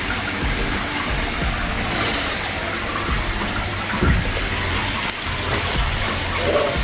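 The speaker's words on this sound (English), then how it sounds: "Natural spring, hot spring onsen." Water pouring into a natural hot spring onsen bath at a Mt. Fuji hotel, a steady loud gushing and splashing flow close by, continuous throughout with no talking.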